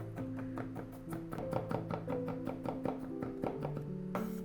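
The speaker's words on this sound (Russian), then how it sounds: "И теперь хорошо измельчаем чеснок." Rapid, steady knife taps on a cutting board as garlic is chopped, a quick run of sharp chops close up, with a faint musical backing underneath.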